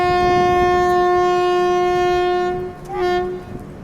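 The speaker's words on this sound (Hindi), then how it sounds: "चलिए सिग्नल मिल गया वालाजा रोड से निकलने के लिए अपनी ट्रेन को।" The West Coast Superfast Express, Chennai Central to Mangalore, leaves Walajah Road with a loud, sustained horn blast lasting about two and a half seconds. A second short, bending horn note follows.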